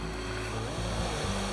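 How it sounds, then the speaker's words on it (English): Small waterfall near the old Cells Mine in New South Wales, a steady broadband rush of falling water heard outdoors with wind buffeting the microphone and a few low thumps. "A little waterfall over there."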